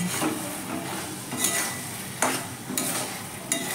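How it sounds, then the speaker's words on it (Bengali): Fried boiled flat beans being stirred into a spice mixture in a pan, a spatula scraping and clacking against the metal in a few distinct strokes over a steady, close sizzle. "এবার এর মধ্যে ভেজে রাখা সিদ্ধ করা শিমগুলো দিয়ে দেব দিয়ে ভালো করে মাখিয়ে নেব"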